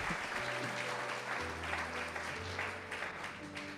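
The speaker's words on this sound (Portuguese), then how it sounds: "Vocês podem aplaudir a Jesus?" A church congregation clapping for a few seconds, a broad steady patter of many hands, with sustained organ or keyboard tones underneath.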